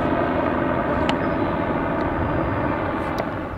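A steady, loud engine roar with a dense rumbling wash, like a helicopter passing low overhead, continuous throughout with no talking.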